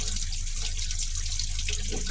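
Tap water from a PrimeWater supply runs steadily from a faucet, giving a close, continuous splashing hiss with no pauses.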